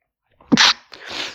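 A single close, loud sneeze from a man feeling under the weather: a sharp burst, a brief pause, then a softer breathy trailing release, with no speech.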